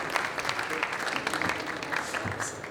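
Moderately loud, continuous clapping from the audience at the Mobility Awards 2019 ceremony, with some crowd noise mixed in.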